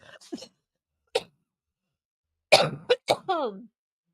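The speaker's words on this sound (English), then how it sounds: "I didn't think I had a lung left to cough anything up from." A few short, sharp coughs break the quiet, then a harsher burst of coughing and a strained throaty sound near the end.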